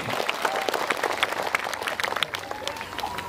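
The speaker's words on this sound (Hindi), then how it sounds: "ताली बजा के थैंक्स करें।" A church congregation at a prayer festival in Kashiabari claps in thanks, dense steady applause filling the space, fairly loud and continuous with faint voices mixed in.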